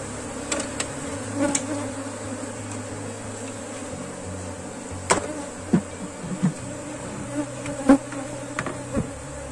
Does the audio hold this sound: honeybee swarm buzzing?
yes